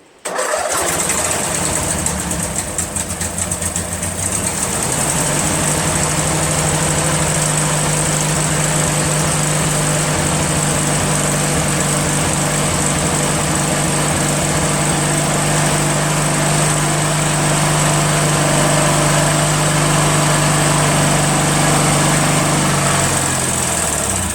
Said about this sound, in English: So I'm just going to try and start it again just to see.